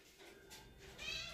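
A cat meows in a drawn-out, rising call that swells toward the end, close but fairly quiet, with no talk over it.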